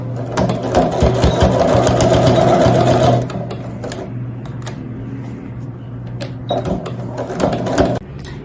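A sewing machine stitches bias binding onto pre-printed fabric for a cosmetic bag, a loud close whirring run for about three seconds, then quieter handling clicks and a shorter burst of stitching.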